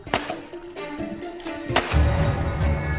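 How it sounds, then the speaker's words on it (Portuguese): A rapid series of sharp revolver shots at a target from 3 metres cracks out close by, several loud bangs in quick succession followed by a lingering rumble. "Ele se coloca a 3 metros do alvo e faz uma série de disparos."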